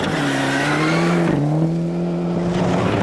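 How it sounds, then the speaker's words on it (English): A Ford Sierra Cosworth rally car, older and showing its age, charges along a rally stage, its engine droning loud and close, with a brief dip near the middle as the driver shifts before pulling on. "Beginning to show its age, the Sierra Cosworth of Greg Mills."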